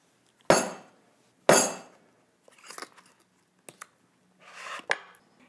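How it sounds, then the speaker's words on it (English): Young coconut and cleaver banged together onto a cutting board: two sharp, loud thuds about a second apart, followed by softer scraping taps and a final knock, with no talking. "bang them down onto the cutting board to create a deeper cut"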